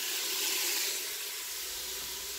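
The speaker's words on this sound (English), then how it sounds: "I'm going to add now the carrots." Carrots go into a pan of sauteing onions for a sausage lentil soup, giving a steady loud close hiss of sizzling that fades slightly.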